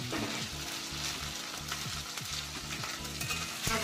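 Potatoes fry with cumin in hot oil, producing a soft, continuous sizzle with light crackles and a faint stirring scrape near the end, with no talking.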